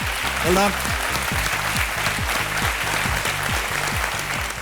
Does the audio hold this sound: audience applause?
yes